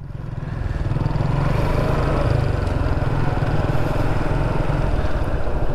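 A car engine revs up steadily as the clutch is released and the driver accelerates through a turn during a driving lesson, a loud continuous mid-range drone with a low rumble and no voices.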